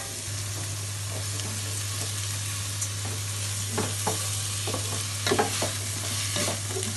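Rice fries with spices in a pan for khichuri, giving a continuous crackling sizzle under a steady low hum, with a few sharper stirring scrapes toward the end.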